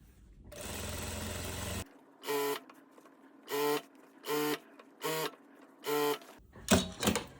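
An overlock sewing machine runs a narrow rolled hem along a dress ruffle, first a long steady stitching run, then a series of short, evenly spaced bursts as the fabric is fed, close and clear.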